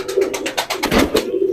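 Tonk breed pigeons coo in a loft, a close, rhythmic run of soft, throaty pulses repeating several times in quick succession.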